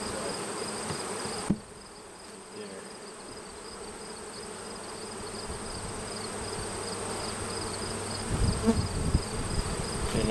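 A honey bee colony buzzes steadily while being transferred between hives, a dense continuous hum up close with a brief knock early on and some handling clatter of frames toward the end.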